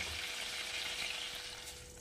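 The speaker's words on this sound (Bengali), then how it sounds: "মাছটা ভাজা হয়ে গেছে, এর থেকে কড়া আমি আর ভাজবো না" Fish frying in hot oil for a Bengali prawn curry, a dense steady sizzle that fills the whole short stretch at close range, no voices over it.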